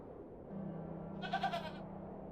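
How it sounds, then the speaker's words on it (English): A goat in the video game The Excavation of Hobbs Barrow gives a single short, wavering bleat over a low steady hum, close and moderately loud. "Will the goat want an apple?"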